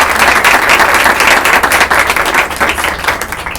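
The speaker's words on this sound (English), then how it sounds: "So first let's give Chloe a round of applause." Applause fills a board of education meeting room for a newly appointed student representative, loud and continuous clapping from many people that tapers off slightly toward the end.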